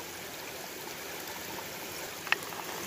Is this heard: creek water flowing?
yes